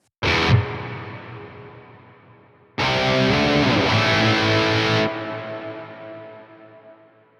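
A distorted electric guitar through an Archetype: Nolly X amp plugin, reverb set around 50%, strikes a chord, then a longer sustained phrase, each followed by a noticeable reverb tail that fades out gradually over a couple of seconds.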